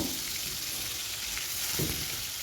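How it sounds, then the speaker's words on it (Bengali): Mustard oil heating in a wok on a gas flame before katla fish go in, a steady close sizzling hiss with a couple of soft low knocks and no talk. "কড়া গরম হয়ে গেলে দিয়ে দিচ্ছি সর্ষের তেল তেলটা এবারে খুব ভালো করে গরম করে নেব"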